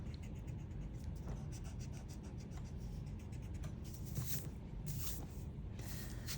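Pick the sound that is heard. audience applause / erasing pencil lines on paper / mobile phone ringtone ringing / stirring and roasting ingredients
erasing pencil lines on paper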